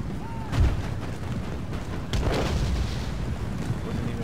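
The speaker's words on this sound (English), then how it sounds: "Cannons are blasting away." Cannons firing during a battle in Empire Total War, booming shots at irregular intervals over a constant din of battle noise.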